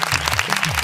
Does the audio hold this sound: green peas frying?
no